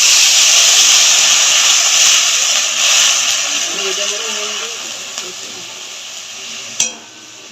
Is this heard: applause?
no